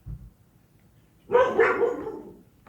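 A dog barks once, a single loud, close bark with a brief yelping tail, standing alone against a quiet room.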